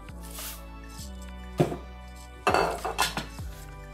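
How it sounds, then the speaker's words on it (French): A lid goes onto a Thermomix bowl holding sugar, milk powder and a pinch of salt for churros, giving a few sharp plastic clacks and clicks near the mic against a steady low hum. "On met le couvercle."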